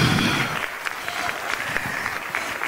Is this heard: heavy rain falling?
no